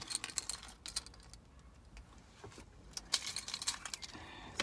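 Keys on a car keychain jangle and clink in quick, irregular bursts, close and fairly faint, with short pauses between shakes.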